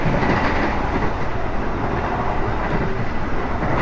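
Steady, loud rumble of an executive-class passenger train carriage in motion on the KA Parahyangan between Bandung and Jakarta, heard from the rear of the car, with continuous wheel and track noise and a faint rhythmic clatter throughout.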